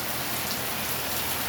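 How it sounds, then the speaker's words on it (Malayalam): Heavy rain falling outside the front of a house, a dense steady patter and hiss of drops on surfaces, close and unbroken, with no talking. "നല്ല മഴയാണ്"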